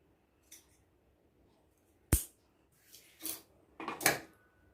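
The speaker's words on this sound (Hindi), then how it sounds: "तो ये 5 से 6 इंच की रस्सी में काट लेती हूँ।" Scissors cut a 5-6 inch length of rope for a fabric tassel craft: a few sharp, separate snips and clicks, close and fairly loud, with quiet pauses between them and no talking.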